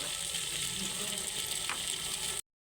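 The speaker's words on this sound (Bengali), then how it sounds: "এবার একটু ভালো করে মশলাগুলো নেড়ে নেব" Turmeric, chili, cumin and coriander powders are stirred as they fry in a pan for khichuri, a continuous close hissing sizzle with faint spoon scrapes, cutting off abruptly at the end.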